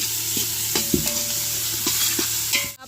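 Ingredients for a meal maker pulao sizzle in hot oil in a pan while a spoon scrapes and stirs, with steady frying hiss and a few sharp clinks, up close and with no talking.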